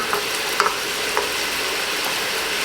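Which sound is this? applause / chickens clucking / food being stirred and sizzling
food being stirred and sizzling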